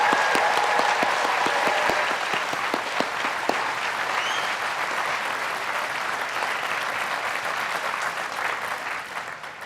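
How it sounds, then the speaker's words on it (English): At a Caltech commencement, a large crowd bursts into loud, sustained applause for graduates, with sharp claps prominent at first and then a steady wash of clapping. "So let's all give cheers and applause for our 2026 graduates."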